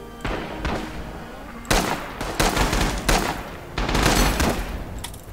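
Gunfire in the first-person shooter Rising Storm comes as dense, loud bursts of rapid shots in repeated volleys, with short pauses between them.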